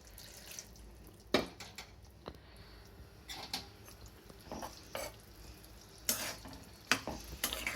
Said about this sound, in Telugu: ఇప్పుడు దీంట్లో ఇట్లా టమాటాలు వేసేయాలి